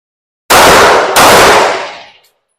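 Two pistol shots fired in quick succession on a shooting range, very loud and close, each with a sharp crack and the second trailing into a fading echo.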